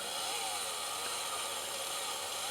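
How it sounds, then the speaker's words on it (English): Chainsaw cutting a second dovetail mortise in wood for chainsaw furniture, a steady, loud, continuous engine whine with the chain biting into the timber throughout, no pauses and no voices. "Eyeball the length necessary for the second one, move over, cut the second dovetail mortise."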